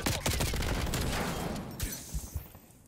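A nail gun fires in Call of Duty: Cold War Search and Destroy on the Collateral map, rapid clattering bursts of shots that fade into scattered pops, moderately quiet.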